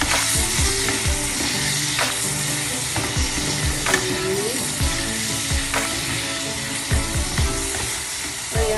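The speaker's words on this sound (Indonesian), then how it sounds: "terus kita tambah tomat. Aduk ini." Tomatoes fry in a pan with a steady, loud sizzle while being stirred, with scraping utensil strokes recurring about once a second throughout.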